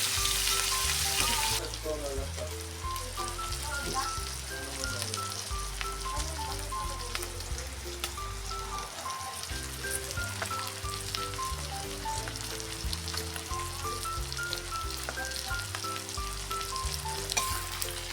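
Chopsuey ingredients and liver sauté in a hot pan, a constant sizzle with stirring clatter and occasional scraping throughout, moderately near, with no talk.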